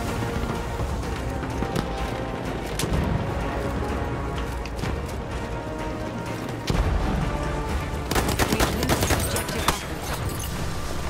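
Battlefield 1 multiplayer battle: a steady barrage of gunfire and heavy booms runs throughout, with a loud cluster of sharp shots near the end that would include a sniper round.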